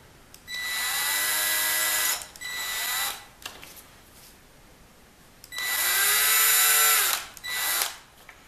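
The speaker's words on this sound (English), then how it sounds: "And now I'm going to drill these out to 7/64." A power drill bores out the brass conductor arms of a Senior 20 organ to 7/64 inch, in two long, loud whining bursts separated by short pauses and brief spin-downs, close to the microphone with no talk.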